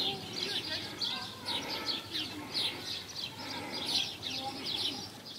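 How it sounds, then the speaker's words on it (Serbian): Assorted wild birds, including marsh birds, raptors and forest species, call repeatedly in a floodplain forest reserve at Zasavica, Serbia; bright chirps and tweets recur over a steady outdoor background. "sve vreme nas nadleću ptice močvarice, grabljivice i razne šumske vrste ptica"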